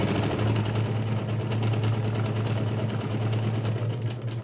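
Sewing machine stitching a straight-to-curved seam, a steady low mechanical hum with fine rapid needle ticking running continuously and close up, easing slightly at the very end.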